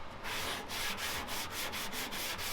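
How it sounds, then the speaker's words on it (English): Steady back-and-forth sanding with 120-grit sandpaper, working glaze down on the body of a wrecked 1,000 HP LS-powered car. The rasping strokes are close and continuous, with a brief pause between some passes. "So I'll go ahead and just sand this all out."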